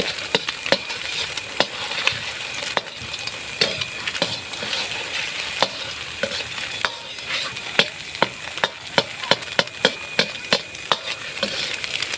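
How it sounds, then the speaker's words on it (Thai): An egg fries in hot oil in a pan on a gas stove, giving a steady loud sizzle with frequent sharp metallic clicks and scrapes throughout. "ใส่น้ำมัน ใส่ไข่"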